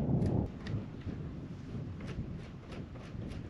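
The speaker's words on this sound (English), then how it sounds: "You hear thunder?" A low, distant rumble of thunder from a thunderstorm rolls briefly at the start at an Oregon campground, then fades into a windy, noisy outdoor background.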